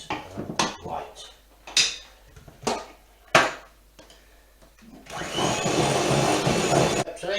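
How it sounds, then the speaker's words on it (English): An electric whisk whips butter cream in a bowl, starting after a few clinks and knocks of the bowl and running as a steady, loud whir for about two seconds. "I'm now going to whisk it up until it comes nice and white"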